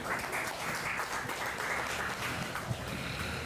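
Audience applause at a conference, a steady wash of many hands clapping from a distance, moderately faint, with no talk over it.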